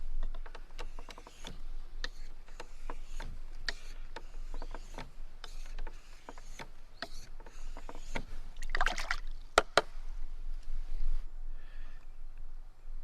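A knife blade worked back and forth on a medium 1200-grit sharpening stone at a camp: steady, soft rhythmic scraping strokes up close, punctuated by sharp clicks and taps, with no talking.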